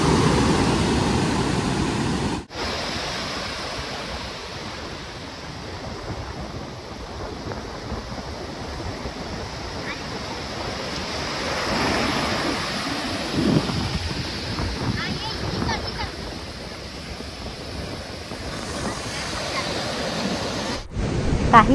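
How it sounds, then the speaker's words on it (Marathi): Strong high-tide sea waves surge at Kihim beach, a continuous loud roar of surf mixed with heavy wind buffeting the microphone. "तिथे भरतीमुळे पाणी किनाऱ्यापर्यंत आले होते आणि लाटाही खूप जोरात होत्या."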